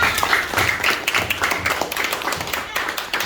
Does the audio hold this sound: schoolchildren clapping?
yes